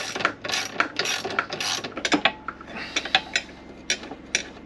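A spanner works a bolt at the top of a Royal Enfield Himalayan 411's suspension, giving a run of close metallic clicks and clinks, dense at first and then sparser, sharp ticks near at hand with no talk.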